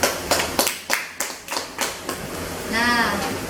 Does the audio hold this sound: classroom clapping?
yes